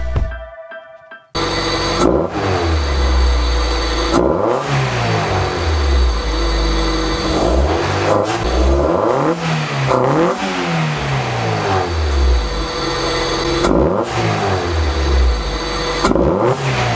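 A truck engine with a newly fitted snorkel revs repeatedly after a brief start, its loud, throaty surges rising and falling in bursts close by, with no talk over it.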